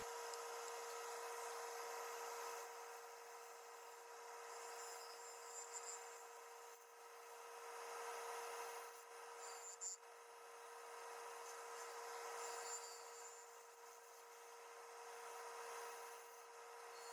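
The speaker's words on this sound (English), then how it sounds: "And then some final passes with the bowl gouge." Bowl gouge making slow final cuts on a big leaf maple bowl spinning on a wood lathe, a steady, quiet hiss of shaving with a constant motor hum and slight swells in the cutting noise.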